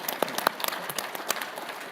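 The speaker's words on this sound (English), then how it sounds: "Can we get a round of applause for" A crowd at a political leadership conference applauds briefly, scattered sharp claps rising quickly and then thinning out over a couple of seconds.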